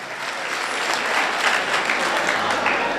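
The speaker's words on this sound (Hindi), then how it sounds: "बहुत अच्छे, ताली होनी चाहिए यार" Audience at a Government College Jhang Urdu poetry mushaira breaks into loud, dense applause, a steady wash of clapping that holds for the full few seconds with no voices standing out.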